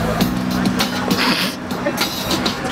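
Steady rumble and clatter of a train carriage with faint rhythmic wheel clicks, continuous and close, heard from on board.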